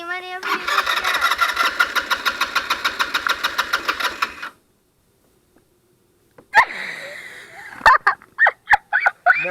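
A Taotao 150cc ATV engine cranks with a rapid, rhythmic starter chatter for several seconds, then falls silent. It fires up again in sharp, bursting revs and pops, loud and close, with people talking nearby.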